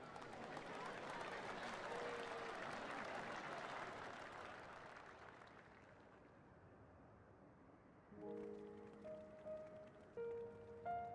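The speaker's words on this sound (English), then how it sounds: "Muted claps." Muted applause in the Final Fantasy XIV video game, a soft, steady patter of many hands that fades over several seconds before musical tones take over.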